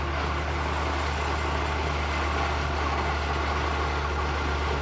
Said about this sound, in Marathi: बघा, तो ट्रॅक्टर चाललेला आहे, तो मल्चिंग करत जातो आहे।